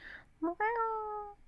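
A person's voice imitates a crying dog but comes out like a cat's meow: a short whine, then a drawn-out, close meow that rises and falls and trails off.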